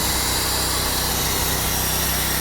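A sawmill blade cuts through wooden poles with a dense, steady whine and grinding roar, loud and close, with no talk over it.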